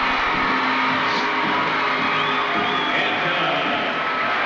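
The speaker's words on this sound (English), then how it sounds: "The crowd getting into it now." A crowd cheers and yells at an indoor soccer game between the Canton Invaders and Milwaukee Wave, a loud, continuous roar with whoops rising above it throughout.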